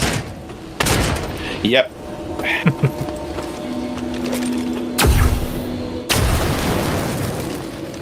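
Explosions in the System Shock video game boom in several loud, abrupt bursts over a steady game hum, with a brief spoken reply among them.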